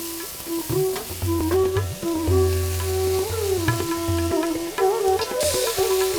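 Boiled vegetables and grated coconut fry together in a pan, with sizzling and repeated stirring scrapes running steadily for several seconds.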